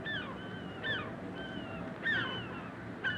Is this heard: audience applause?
no